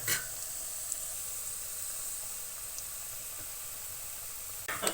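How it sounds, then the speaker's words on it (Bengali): Chicken and coconut kebabs frying in hot oil in a wok, a soft, steady hiss of bubbling oil with a faint clatter near the start and again at the end. "এখন আমি সুন্দর করে ভেজে নিই। কড়াইয়ে তেল গরম হয়ে গেছে,"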